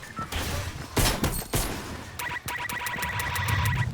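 Pistol gunfire in Fortnite: a few sharp, loud shots ring out early, followed by a quick run of rhythmic electronic beeping and game effects.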